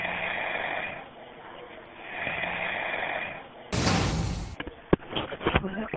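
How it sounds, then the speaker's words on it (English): A 911 operator snores on a recorded Cleveland emergency call, heard over a narrow telephone line as two slow, drawn-out snoring breaths, followed by a burst of line noise and a few sharp clicks. "starts snoring 5 seconds after answering"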